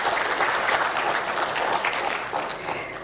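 An audience applauds steadily for recognized teachers at an event on teacher recruitment and salaries, a dense, sustained wash of clapping that holds loud throughout and eases slightly at the end.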